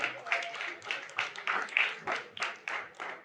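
Rhythmic clapping at a poetry performance, a run of roughly ten even, fairly soft claps with slight gaps between them, heard on its own.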